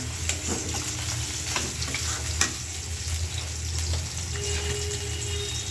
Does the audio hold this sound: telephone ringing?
no